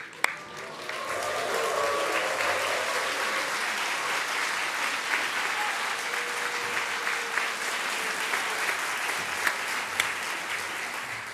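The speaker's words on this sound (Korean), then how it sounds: "이왕 7박수 일어나셔서 함성으로 한번." A church congregation at a Sunday service stands and bursts into sustained applause and cheering, a dense, loud wash of clapping and shouts that holds steady throughout.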